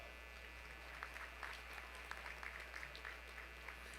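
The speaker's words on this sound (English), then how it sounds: "Let's all give our schools a round of applause." An audience at a national youth rally claps for the schools, a faint, scattered patter of hands spread over a few seconds under a low steady hum.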